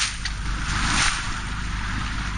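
A boat's engine runs steadily on an outing toward the calanques, a constant loud rumble mixed with water and wind noise, no voices.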